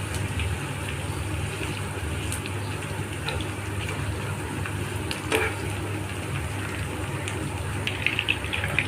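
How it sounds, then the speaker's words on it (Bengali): Green chilies and onions fry in hot oil, a steady close sizzle with occasional stirring clinks and scrapes, heard on its own. "তেল গরম হয়ে গিয়েছে, দিয়ে দেবো কাঁচামরিচ, পেঁয়াজ। ভালো করে বাদামি কালার করে লাল লাল করে ভেজে নেব।"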